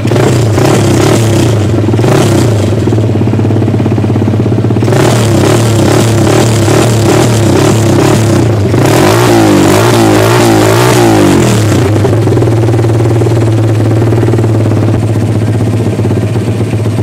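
A nearby MRF motorcycle engine runs loud and continuous, rising and falling in pitch through several revs, with a rattly mechanical clatter under it.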